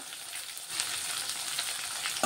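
Cumin seeds and garlic fry in hot oil in a pan, a close, bright, continuous sizzle with crackling pops and a few sharper spits standing out.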